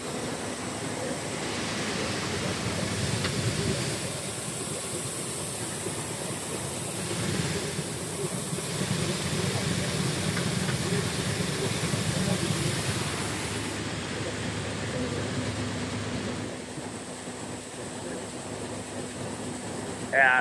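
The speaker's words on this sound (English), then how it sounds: "as I open up the slide and let more corn go" Shelled corn pours steadily through the opened slide of a grain cart during corn harvest, a continuous rushing hiss that holds at a fairly even level for about twenty seconds with machinery rumbling underneath.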